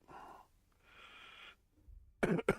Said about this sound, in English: I've suddenly started coughing in the last hour.